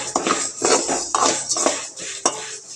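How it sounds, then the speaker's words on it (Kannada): Vermicelli (shavige) roasting in a pan, stirred with a metal spoon in steady, loud scraping strokes against the pan, a rhythmic clatter over a faint sizzle, close and without voices. "ಶಾವಿಗೆ ಹುರುತ್ತಾ ಇದ್ದೀನಿ"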